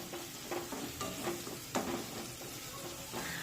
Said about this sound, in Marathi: आता हे मसाले सुद्धा व्यवस्थित परतून घेऊया